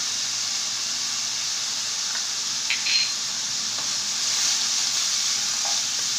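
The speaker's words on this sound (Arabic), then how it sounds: "وغادي نضيف الكميه تاع اللحم المفروم اللي عندي، ونخلط المكونات" Minced meat sizzling in a pan while it is stirred, a steady close hiss of frying with a few faint scraping clinks, no voices.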